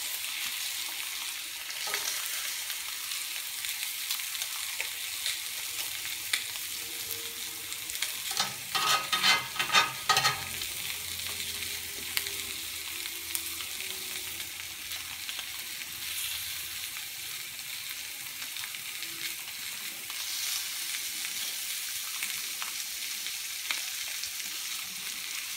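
A steak frying in a pan gives a long, steady close sizzle, with a louder burst of crackling and spatter partway through as it is flipped, then settling back to an even hiss; no one speaks.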